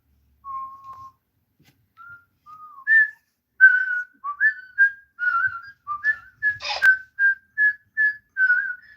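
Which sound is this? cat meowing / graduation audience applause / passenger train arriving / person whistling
person whistling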